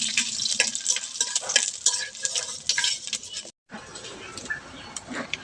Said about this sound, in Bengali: তেল গরম হয়ে গেছে, দিয়ে দেব শুকনা মরিচ, দিয়ে দেব গোটা জিরে, পাঁচফোড়ন